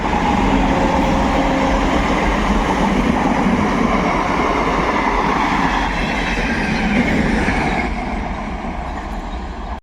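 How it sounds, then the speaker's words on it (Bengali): A Ranaghat local train rumbles past continuously and loudly near Murshidabad station, with a steady wheel roar and clatter on the rails that eases slightly toward the end. "রানাঘাট লোকাল থ্রু একদম মুর্শিদাবাদ রেল স্টেশনের দিকে ছুটছে"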